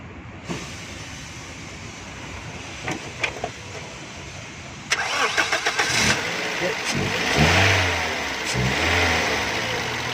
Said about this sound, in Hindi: अभी गाड़ी स्टार्ट करो।